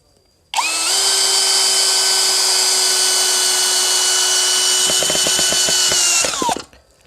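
An IMAX IMCD-20BL brushless cordless drill whirs steadily at high speed for several seconds, with rapid clicking as the screw bites in before the motor winds down.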